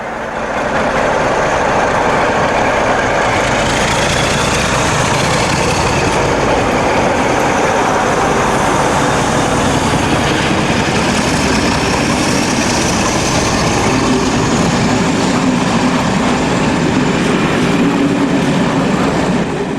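British Class 47 diesel locomotive 47712 thrashes past, a loud sustained engine roar mixed with rolling rail noise and wheel clatter, close and continuous for about twenty seconds with no speech.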